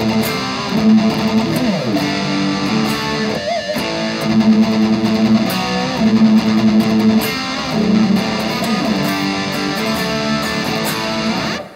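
Distorted electric guitar plays a riff, fourths over a low A, loud and continuous with sliding bends and rhythmic chugging throughout, with no speech over it.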